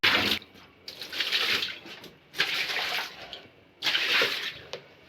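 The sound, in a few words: water being poured out to clean a room floor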